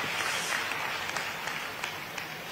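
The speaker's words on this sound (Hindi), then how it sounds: "ताली जोर से बजाएं" Audience applause at an outdoor government event in Madhya Pradesh, a steady dense patter of many hands clapping, moderately distant and even throughout.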